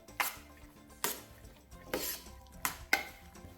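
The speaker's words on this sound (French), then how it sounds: "On peut mélanger les légumes." Vegetables for a fresh salad with soy sauce, salt and pepper being tossed in a bowl, five distinct utensil clatters against the dish at irregular intervals, close and fairly quiet, no talking.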